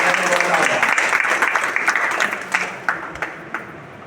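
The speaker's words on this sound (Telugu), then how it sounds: "వాళ్ళని కూడా మనం చప్పట్లతో అభినందించాలని చెప్పేసి" A burst of applause from a crowd, dense clapping at first that thins out into scattered individual claps as it fades.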